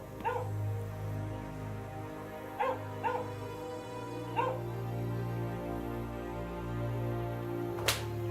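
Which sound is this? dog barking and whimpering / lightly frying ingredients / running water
dog barking and whimpering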